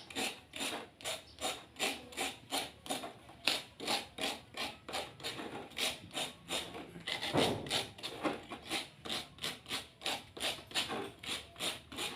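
Rhythmic rasping of sandpaper scraping over a lightweight aerated concrete brick, steady back-and-forth strokes repeating about twice a second, close and fairly quiet.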